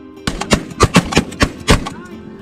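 Shotguns fired during a hunt: a close, loud series of about seven sharp shots in an irregular volley over roughly one and a half seconds, with faint voices between them.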